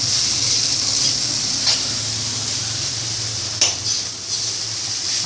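Flattened rice (aval) being stirred in a pan on the stove, a steady sizzling hiss with a few scraping, clinking strokes of a spoon against the pan, close by.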